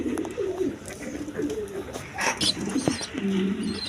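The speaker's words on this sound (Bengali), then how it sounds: "এখানে এক পেয়ার হাই ফ্লাইং গিরিবাস কবুতর আছে" High flying Giribaz pigeons coo close by in repeated soft, throaty phrases, with brief rustles and a faint voice in the background.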